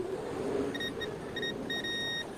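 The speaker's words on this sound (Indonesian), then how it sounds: "Modenya posisi ohm tapi yang mode buzzer." A multimeter in buzzer continuity mode checks an electric iron's cable. It gives a series of short, clear electronic beeps, several brief ones and then a longer one, over steady background noise.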